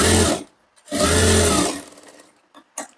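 Sewing machine stitching a katori blouse seam with a half-inch margin pressed in, two loud bursts of whirring stitching separated by a brief pause, then a few lighter clicks as the fabric is handled.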